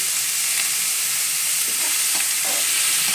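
Onions roasting with garlic in a pan over low heat, a loud steady sizzle filling the whole stretch, with soft scraping stirs toward the end and no talk.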